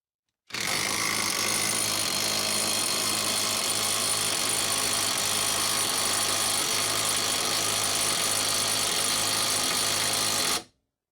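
A Hyper Tough 12-volt brushless impact wrench runs in one continuous, loud, steady burst of about ten seconds, a dense buzzing whir with no pauses and no talking.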